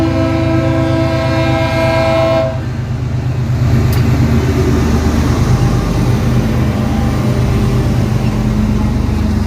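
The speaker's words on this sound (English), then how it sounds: "BNSF southbound." BNSF southbound freight train with locomotive 7715 leading, its horn blaring loudly for the first couple of seconds before cutting off, then the steady rumble and rattle of cars rolling past close by.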